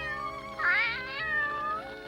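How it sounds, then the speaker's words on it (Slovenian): A cartoon cat meows loudly in a drawn-out, wavering cry over soft background music, followed by a second, lower meow toward the end. "Nisem si mislil, da bom lahko kdaj pogrešal trapasto mačko."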